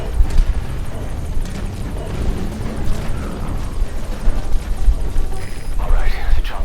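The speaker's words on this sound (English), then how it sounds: "Alright, the chopper's touching down." Helicopter in Metal Gear Solid V touching down, a dense, loud rotor and engine rumble that fills the clip steadily while a voice talks over it.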